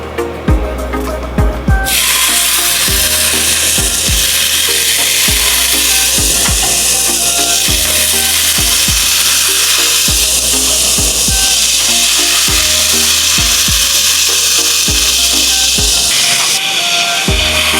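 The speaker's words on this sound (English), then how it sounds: "In our hot pan, we're gonna add in our bacon." Bacon frying in a hot pan gives a loud, steady broadband hiss and crackle with scattered pops, continuous throughout with no talking.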